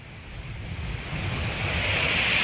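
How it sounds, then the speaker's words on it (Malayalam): Sea waves crash and surge onto the shore along a coast where the water is rising, a steady roaring wash with wind noise that builds louder over the short stretch, with no voices. "വെള്ളം അടിച്ച് കയറി വരുന്നുണ്ടല്ലേ"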